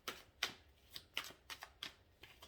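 A deck of tarot cards being shuffled in quick, crisp riffling bursts, about seven short shuffles in a steady rhythm, quiet and close with no voices.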